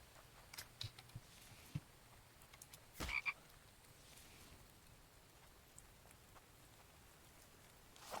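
Frog croaking in the survival game The Infected, faint scattered croaks and clicks over a soft rain-like hiss, with one sharper burst midway, no voices.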